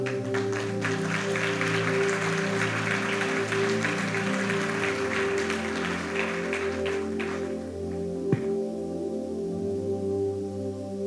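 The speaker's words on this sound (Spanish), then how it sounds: "Vamos a darle un aplauso al Señor." A church congregation claps in praise during a service, a steady wash of applause over sustained organ or keyboard chords that fades out partway, leaving the music alone.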